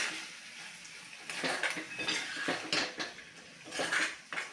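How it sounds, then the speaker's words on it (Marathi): Potato sheera being stirred in a pan, with repeated scraping and clinking of a spoon against metal in uneven strokes, fairly close and moderate in level. "आता सतत ढवळत हा परत एकदा व्यवस्थित शिजवून घ्यायचा आहे सतत हलवणं गरजेचं आहे"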